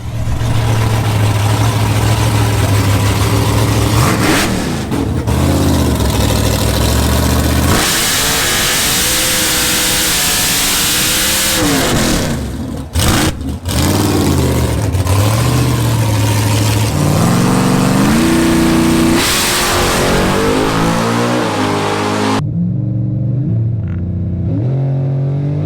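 A Chevrolet Camaro COPO drag car roars down the quarter-mile strip, its loud engine climbing through repeated rising gear pulls with brief shift breaks, then cutting off abruptly near the end; no talk.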